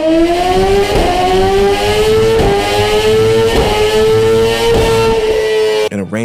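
A supersport motorcycle engine revs hard and loud, a rising whine climbing steadily with rhythmic pulses, close by, cutting off abruptly near the end.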